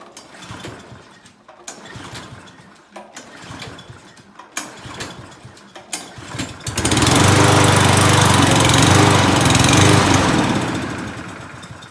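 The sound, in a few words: push lawn mower engine running on treated gas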